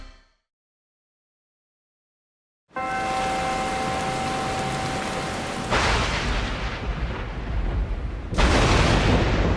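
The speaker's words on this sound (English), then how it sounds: "This storm is looking pretty bad." A storm begins after near silence with sudden heavy rain, then deep booming thunder claps that swell over the continuous downpour, loud and close.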